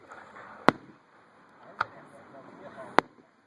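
Three sharp, distant bangs from a fireworks show in Leonard, Texas, spaced about a second apart, with faint crowd murmur and low rumble between bursts.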